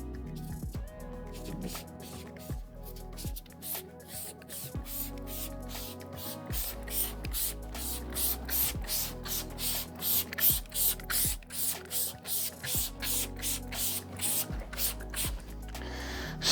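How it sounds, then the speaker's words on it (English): Salty Captain's Captain Clears cleaner sprayed onto Strataglass clear vinyl boat panels in a rapid series of short, hissing trigger-spray bursts, close and fairly loud, with no talking. "we're going to spray the whole clears"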